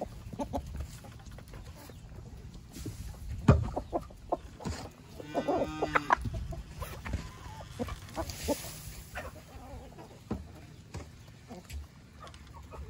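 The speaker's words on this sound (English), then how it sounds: "So now I gotta go feed the chickens." Chickens cluck and squawk close by in short scattered bursts at feeding time on a farm, mixed with shuffling and handling noises.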